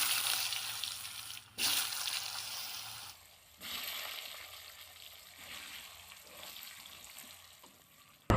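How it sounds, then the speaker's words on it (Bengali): Potatoes fry in hot oil in a wok for a country chicken curry, giving a steady, moderately loud sizzle broken by a few brief pauses. "যেহেতু মাংসের মধ্যে আলু কম্পালসারি, এই জন্য আমি আলু দিয়ে এনে ভেজে নিব।"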